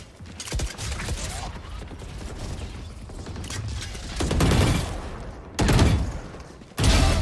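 Prelude to Chaos Vandal rifle firing in Valorant, with rapid sharp shots and mechanical clacks forming a dense stream of fire, broken by two loud bursts near the end.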